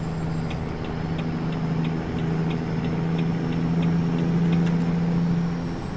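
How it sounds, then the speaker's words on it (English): A heavy truck engine in American Truck Simulator drones steadily in a low gear while a faint, regular ticking repeats above it and no one speaks. "You really got to run through these gears on this truck."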